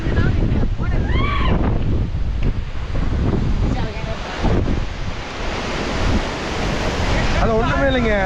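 Strong monsoon wind blasts at Amboli, roaring and buffeting the microphone continuously, with people talking over the gusts.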